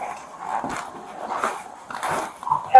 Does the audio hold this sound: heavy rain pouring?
no